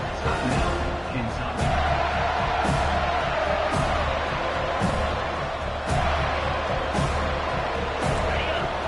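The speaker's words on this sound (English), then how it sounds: "this home crowd is fired up and ready to make a difference today" Home crowd at a football game in a video game broadcast, a continuous roar of cheering in a stadium with occasional sharp thuds on top.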